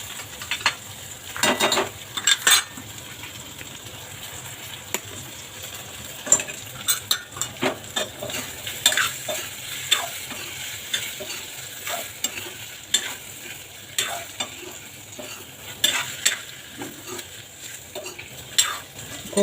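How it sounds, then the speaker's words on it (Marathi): Arbi (taro root) stir-frying in a pan, a low sizzle broken by frequent clinks and scrapes of a spoon against metal, irregular and close, with no one talking. "आता याच्यात आपण अरबी परतून घेऊया."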